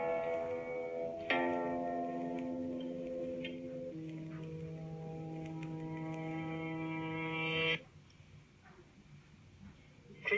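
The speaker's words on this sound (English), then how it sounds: "Now we've turned the last note the wrong way round. We've got the decay first." Tape-spliced tones step through a short sequence of sustained pitched notes, the last one reversed so its decay swells in first before cutting off abruptly, faint and alone.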